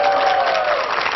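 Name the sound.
audience applause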